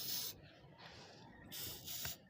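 Spray paint hissing onto Massey Ferguson Super 90 gas tractor parts in short bursts: two hushed sprays, a softer one between them, and two more near the end, faint and close with no talk.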